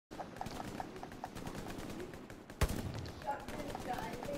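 Machine gun fire in the World War II shooter Hell Let Loose, rapid distant bursts rattling in quick repeating taps with one sharp close shot partway through, while players talk quietly over it.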